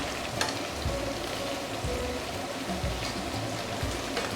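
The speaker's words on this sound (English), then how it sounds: "So deep frying can also be very clean and not messy." Pork pieces deep frying in hot oil for sweet and sour pork give a dense, continuous sizzle with crackling bubbles and a few soft stirring knocks, heard close up with no talking.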